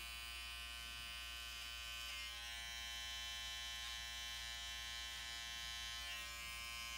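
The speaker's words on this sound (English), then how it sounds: "we're going to take the back end of the clipper" Electric hair clipper buzzing steadily and close while trimming a tapered outline in front of the ear at a barbershop, a continuous even hum with no talking.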